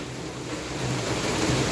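Heavy rain pouring outdoors during a downpour, a dense, continuous hiss of water with steady loudness and no speech.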